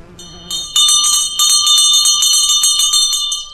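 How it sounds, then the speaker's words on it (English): An old school bell, used to call children in from the fields, is shaken by hand in a rapid, loud, bright clanging. It rings steadily for about three seconds, close up, and then stops. "This is an old school bell."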